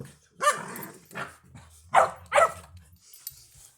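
Labrador puppies bark indoors, four or five sharp, fairly close yips and barks spaced irregularly over a few seconds, with quiet pauses between them.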